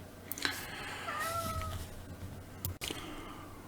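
A cat meows close by, a single drawn-out rising and falling call over a quiet room with faint background hum, followed by a brief rustle.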